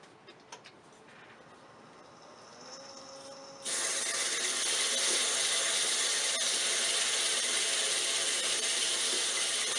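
A wooden ring dish being sanded by hand with 150 grit sandpaper: a few faint taps at first, then a sudden, steady, loud abrasive hiss that continues without a break to the end.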